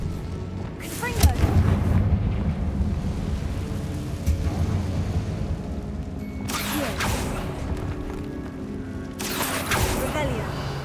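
Confringo, an explosive spell cast in the Hogwarts Legacy video game, goes off in a few sharp bursts with rumbling booms, moderately loud against steady background game noise, with a voice speaking briefly.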